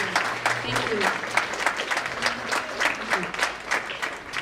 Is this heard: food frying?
no